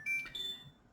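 A phone gives a brief electronic ringtone: a faint, high pitched chirping tone lasting under a second, with nothing else heard.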